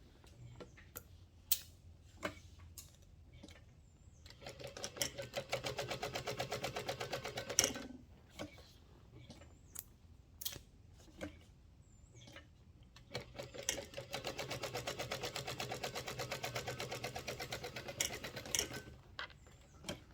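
A sewing machine stitches through quilted vinyl in two sustained bursts of rapid, even mechanical ticking, separated by quieter pauses with scattered clicks and handling taps, fairly close and moderately quiet.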